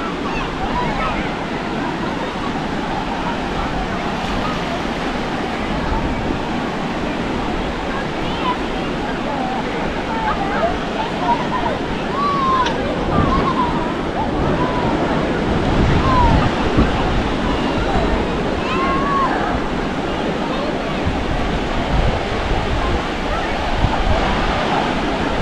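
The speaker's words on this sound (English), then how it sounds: "The famous Manly Beach in Australia." Ocean waves and surf roll in steadily at Manly Beach in Australia, a continuous broadband wash with wind noise on the microphone, with faint voices in the background.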